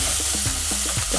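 Matumbo (tripe) is stirred in a pan with curry powder and garam masala, giving close, repeated scraping strokes in a quick rhythm over a soft sizzle.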